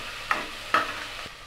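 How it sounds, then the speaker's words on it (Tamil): Tomatoes sautéed with softened onions in a pan for mixed vegetable kurma, a quiet steady sizzle broken by two crisp spatula scrapes and a softer third tap, close up with no voices. "தக்காளி போட்டு நல்லா வதக்கி விட்டுடலாம்."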